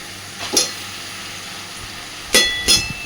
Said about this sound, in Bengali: আর এই পর্যায়টাই দিয়ে দেব সিদ্ধ করে রাখা ডিম আর সয়াবিনটা